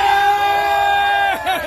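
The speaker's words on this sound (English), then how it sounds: "the crowd cheers as he wrestles that yellowtail away from that giant sea lion" A crowd aboard a Southern California fishing boat cheers and yells as an angler wrestles a yellowtail away from a sea lion, a loud, dense burst of many voices sustained throughout.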